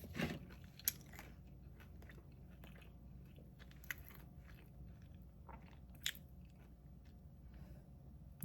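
Crispy toasted pumpkin-based food bitten and chewed close to the mic, with a few sharp crunches standing out over soft, steady mastication and no talk.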